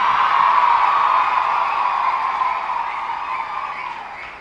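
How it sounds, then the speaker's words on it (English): Applause at a memorial day ceremony for the Maruthu brothers in Tamil Nadu, attended by the Governor: a dense, steady wash of clapping from a large gathering that slowly fades over several seconds. "So please give big applause."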